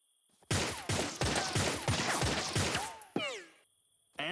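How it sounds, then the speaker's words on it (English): Rapid bursts of suppressing gunfire from a World War era soldier in the adventure game 3 Minutes to Midnight, loud repeated shots in a rolling volley with ringing ricochets near the end, then a brief final shot. "Suppressing fire!"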